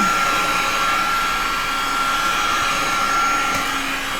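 A heat gun blows hot air in a steady, loud, close whoosh with a constant motor whine that holds without a break for several seconds, and no voices are heard.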